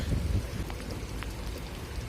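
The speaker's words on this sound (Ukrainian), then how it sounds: "О, дощик, дощик, дощик." Steady rain patters down near the sea on the Scottish coast, a soft, even hiss with a few scattered drops, close and continuous, no voices over it.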